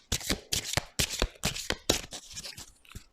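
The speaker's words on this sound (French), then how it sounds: "je vais vous tirer une carte de l'oracle des anges" Angel oracle cards are shuffled by hand in about eight quick, crisp riffling bursts with short pauses between them, close and clear with no talking.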